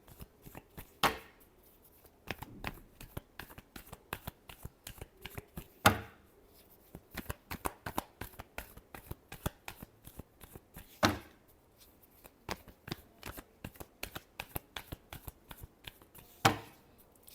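Tarot cards are shuffled by hand in quick, quiet riffling flicks with a few sharper taps, steady and close, with no talking.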